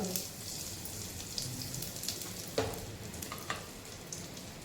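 Garlic and asafoetida fry in a little hot oil, giving a soft, steady sizzle near the listener, broken by a few sharp clinks and stirs from a utensil.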